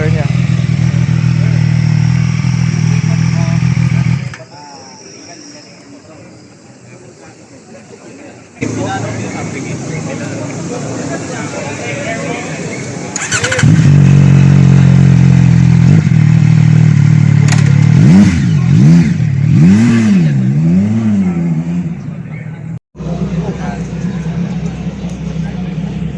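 A CFMOTO NK 675 three-cylinder motorcycle running through its stock muffler, a loud close idle that drops away briefly before rising again into steady revving with several swelling throttle blips.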